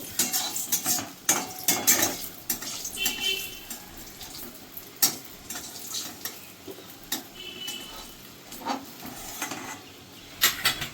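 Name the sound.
dried red chillies frying in oil in a pan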